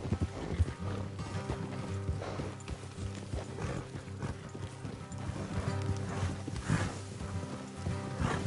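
Horses' hooves clip-clop steadily on the ground in a video game, several animals moving together at a walking pace, with an occasional snort over a low ambient rumble.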